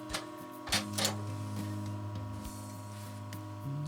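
Sewing machine stitching through a thick pot holder with long stitches, a close mechanical ticking and whirring run with a few sharp clicks and brief pauses, alone without talk.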